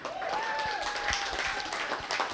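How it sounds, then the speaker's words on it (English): Steady crowd applause in a cafe, dense clapping throughout with a faint rising whistle-like tone running through it. "I want to give a huge round of applause"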